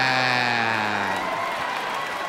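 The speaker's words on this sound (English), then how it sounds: "I see the old school parents clapping right now" A stand-up comedy audience breaks into a burst of applause, a dense wash of clapping that fills the room as a fading musical sting trails off underneath.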